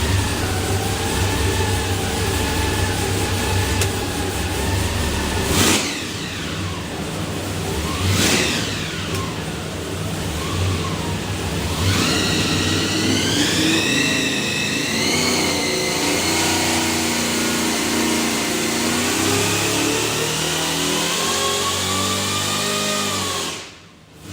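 Supercharged 540ci big block Chevy V8 roaring through a dyno pull at barely over 4 pounds of boost, loud revving sweeps up and down, then a steady climb in pitch to a sustained high-rpm scream before cutting off abruptly.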